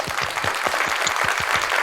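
Soundboard applause effect, a dense burst of many hands clapping that plays loud and close and stays steady for a couple of seconds, with no voices over it.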